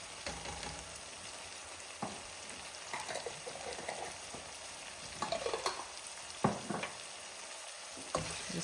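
Five alarm chili with chili garlic sauce being stirred in a pot, giving soft scraping strokes and a low bubbling sizzle at a quiet level, with a few louder spoon knocks.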